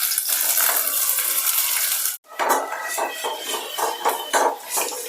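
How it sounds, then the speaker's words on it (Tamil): Dried okra frying in hot oil in a home kitchen as it is cooked for a fish curry: a loud, steady sizzle cuts out briefly, then resumes with crackling bursts and light clinks of a utensil against the pan. "அதையும் அந்த எண்ணெயிலே போட்டு நம்ம பொரிய விட்டுக்கலாம்"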